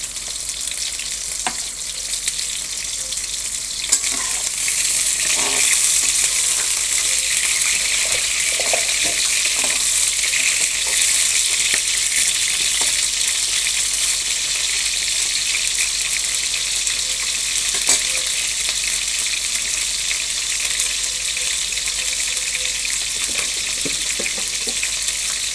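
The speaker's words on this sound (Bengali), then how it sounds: "সব পটল কড়াতে দেওয়া হয়ে গেছে, এগুলোকে এবার আমি ফ্রাই করছি" Pointed gourd (potol) pieces fry in oil in a kadai, a loud, steady sizzle running throughout with scattered soft clinks and scrapes of stirring, and no talking.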